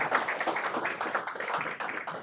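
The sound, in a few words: audience applause for a speaker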